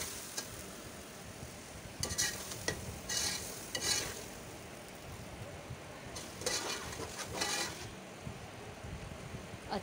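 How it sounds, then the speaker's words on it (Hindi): Garlic paste frying with golden onions in a pot for beef haleem sizzles steadily while a spoon stirs and scrapes in bursts, close and fairly quiet, with no talking. "प्याज हमारी फ्राई हो गई है, सुनहरी हो गई है। अब इसमें लहसुन का पेस्ट डाल देंगे।"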